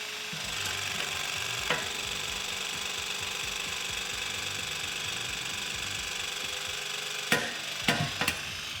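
Milwaukee M18 Force Logic knockout tool punching a 2-inch knockout, a steady hydraulic motor hum and whine running throughout, close and even, with a few sharp clicks and knocks as it finishes and releases.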